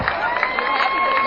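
A school assembly audience at a veterans' event cheers and claps together, a dense, steady roar of many young voices with no one speaking.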